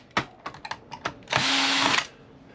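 Old network switch hardware being taken apart, with several short clicks and whirs of a screwdriver or drill backing out screws, then one longer steady buzzing run, close and clear without talk.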